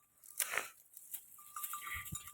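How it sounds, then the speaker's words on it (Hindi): Goats feed on freshly laid neem leaves, giving soft crunching and tearing chews close by, with a brief goat bleat early on and no talking. "और मैंने डाला है अपनी बकरियों के लिए नीम। और ये देखो, ये सारी खा रही हैं मेरी बकरियां।"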